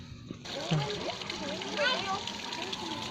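Water gushes steadily from a household faucet after a clog is cleared, a strong splashing rush, close up, while a person talks over it.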